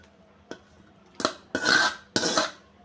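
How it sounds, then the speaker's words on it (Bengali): Fried cauliflower pieces tipped into a pan of spiced korma, giving a light clink, then three sizzling, scraping bursts of food hitting the pan, close and clear with no talk. "এবার দিয়ে দিচ্ছি ভেজে রাখা ফুলকপিগুলো"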